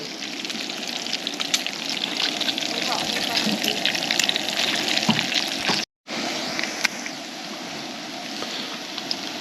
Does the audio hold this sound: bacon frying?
yes